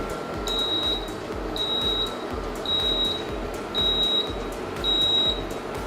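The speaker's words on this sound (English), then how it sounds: "the hob will beep 5 times and switch off automatically" An induction hob's timer ends with five evenly spaced high electronic beeps, each about half a second long, before it switches off, over a steady hum of background noise.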